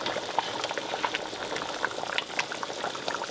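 Liberian peanut butter soup boiling steadily in a pot, a continuous close bubbling and popping with small irregular pops and no talking.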